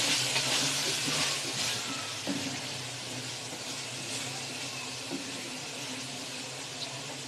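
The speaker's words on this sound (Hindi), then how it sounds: "कचनार को अच्छी तरह भूनेंगे।" Kachnar buds frying with minced meat in a pan, a steady broad sizzle and hiss that starts slightly louder and settles into a continuous crackle.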